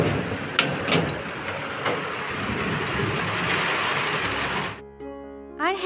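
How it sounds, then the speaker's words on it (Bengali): Steady evening rain pours with a dense hiss and a few sharp cracks of thunder, then cuts off abruptly near the end into quieter tones. "দুপুরবেলায় তো আর বৃষ্টি হলো না, এই সন্ধেবেলাতে বৃষ্টি হচ্ছে"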